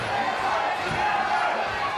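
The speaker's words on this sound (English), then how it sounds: "This crowd is going absolutely crazy here in Caloundra" A crowd at a Muay Thai fight in Caloundra roars loudly and continuously, a dense wash of cheering and shouting with no pause.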